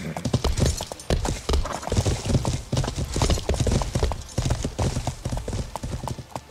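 Hooves of a horse clip-clop steadily at a gallop in the medieval game Life is Feudal: Your Own, loud and close with a rapid repeating rhythm, and a brief whinny may sound among the steps.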